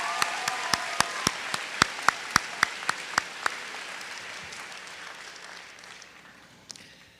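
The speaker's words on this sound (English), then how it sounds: "Let's give Maeve one more round of applause." A high school senior awards audience applauds, the crowd's clapping topped by a run of loud, evenly spaced claps from one nearby person before the whole round fades away over the last few seconds.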